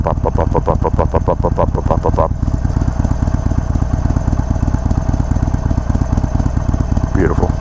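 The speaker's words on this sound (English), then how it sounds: "This bike is gonna have that nice little classic Harley Davidson potato, that type of sound." A 2021 Harley-Davidson Iron 883 motorcycle engine running close by, a loud steady lumpy throb with a brief rev near the start and another toward the end, and a voice speaking over it briefly.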